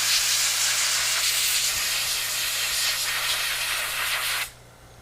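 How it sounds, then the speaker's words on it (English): Abrasive blasting with aluminum oxide on an old Mitchell fishing reel, a loud continuous hiss of spraying grit that stops abruptly near the end. "that's the purpose of blasting it with aluminum oxide, to get off any loose paint"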